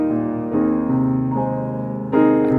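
Piano chords ring out in sequence, each new voicing struck over the decay of the last, with a brighter, fuller chord near the end.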